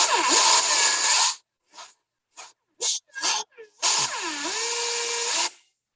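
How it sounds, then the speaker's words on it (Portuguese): Loud steady hissing in long bursts, broken by several short sharp hiss puffs, like a pressure cooker venting steam nearby. "Som de panela de pressão."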